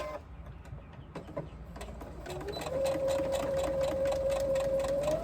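A sewing machine stitches a 3/8 inch curved seam on a crossbody bag. Its motor whirs up partway through and then holds a steady, close, even hum to the end.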